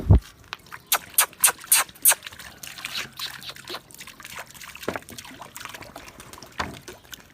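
Water splashes and trickles in a series of short bursts as it is poured out for pigeons, a quick rhythmic run of pours at first, then scattered softer drips and splashes.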